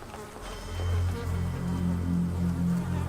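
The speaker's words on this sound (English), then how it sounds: "Insects swarm on the remains, and the tiny scraps of meat feed a whole new cycle of life." Insects swarming over the remains of a carcass in monsoon-season Cambodian wilderness, a dense close buzzing drone of flies with wavering pitch, steady and loud throughout.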